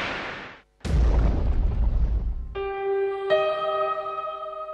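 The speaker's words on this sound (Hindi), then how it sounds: "21 नवंबर सन 2012 जब औरंगी टाउन कराची में एक धमाका होता है और दीगर अफराद की तरह मोहम्मद आबिद भी शहीद ह" A bomb blast near an imambargah in Orangi Town, Karachi, erupts as one loud, close boom that rolls into a long rumbling decay, then gives way to sustained tonal chimes.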